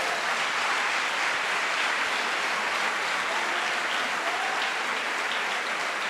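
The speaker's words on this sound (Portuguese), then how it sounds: "Então vamos dar uma salva de palmas para Jesus" A congregation at a church service bursts into sustained applause, a dense, even wash of many hands clapping at once, loud and unbroken throughout with no speech on top.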